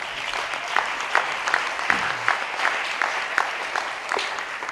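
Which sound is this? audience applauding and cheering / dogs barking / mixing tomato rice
audience applauding and cheering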